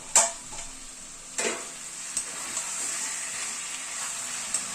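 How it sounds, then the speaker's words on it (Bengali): Chicken curry simmers in a covered pan on a medium gas flame, giving a soft, steady sizzle broken by a few sharp scraping stirs and light clinks of the lid or spoon, with no talking. "চিকেনটাকে একটু নেড়ে দিচ্ছি ঢাকা দিয়ে কষাতে কষাতে মাঝে মাঝে কিন্তু একটুখানি ঢাকনাটা তুলে নাড়তে হবে"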